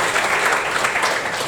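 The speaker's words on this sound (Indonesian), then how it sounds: "Tepuk tangan dulu." An audience at a university talk session on leadership and public policy claps together, a dense, steady burst of applause up close with no break.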